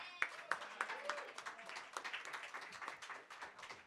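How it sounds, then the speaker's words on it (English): An open mic audience in a small café claps for a barista, scattered individual hand claps rising into a brief, fairly quiet round of applause. "A round of applause for Aaron."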